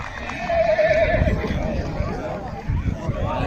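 Purebred Arabian horses race as one neighs loudly and close, hooves clip-clopping beneath, while a crowd murmurs and voices call out in the background.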